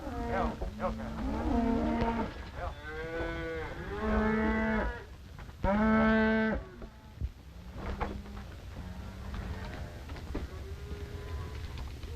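Cattle moo repeatedly, several long, drawn-out lowing calls from a herd of sick cattle, fairly close and loud, with short gaps and some overlap between the calls.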